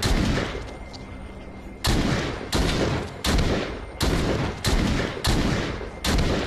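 Pistol gunshots from The Walking Dead: Saints & Sinners, a run of seven or eight sharp, loud shots at irregular intervals of roughly half a second to a second, each trailing off before the next.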